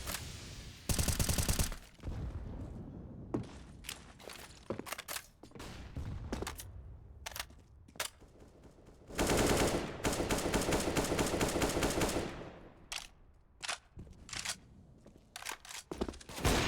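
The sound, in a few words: gunfire in a Counter-Strike video game match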